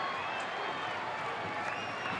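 A baseball stadium crowd at a ninth-inning Dodgers home game against Arizona gives off a steady, dense roar of cheering and chatter, with a voice talking over it.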